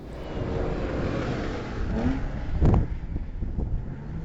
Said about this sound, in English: Renowned commentator Dave Leon leads Group 4 in the Audi S4